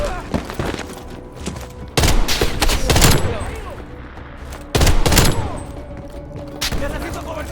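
Gunfire in the video game Call of Duty: Black Ops Cold War, a loud sustained fusillade of rapid automatic shots and heavy bursts filling the clip, with shouting voices mixed into the chaos.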